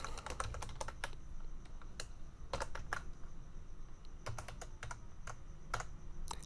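Someone types on a computer keyboard while entering text into an MS Word document, a quick irregular run of close, crisp key clicks with brief pauses between the bursts.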